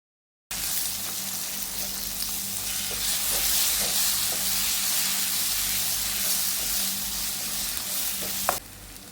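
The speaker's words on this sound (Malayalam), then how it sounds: "ആ ചതച്ച് വെച്ചിരിക്കുന്ന മാങ്ങ ഉണ്ടല്ലോ, അതങ്ങോട്ട് ഇട്ട് കൊടുക്കാം" Crushed raw mango frying in an oiled pan for Kerala-style mango rice, giving a loud, continuous close-up sizzle and hiss with faint occasional utensil taps and a sharper clink near the end.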